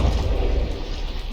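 Battleship weapons explode in a naval combat video game tournament, producing a dense, continuous booming rumble that stays loud throughout the short stretch with no voices.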